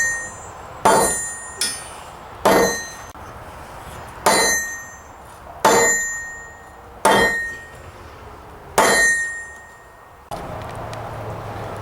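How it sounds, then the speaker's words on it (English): A hammer strikes rusty steel in a homemade forge setup, about eight sharp ringing metallic whacks spaced a second or so apart, each decaying quickly, close and loud against a quiet background. "just whacking it 2 or 3 times with the hammer"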